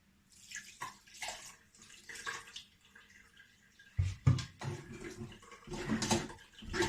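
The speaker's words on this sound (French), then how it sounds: "vous pouvez rajouter un peu d'eau encore." Water poured into a pot of chorba soup, splashing and gurgling in uneven bursts that grow louder and fuller toward the end, with no talking.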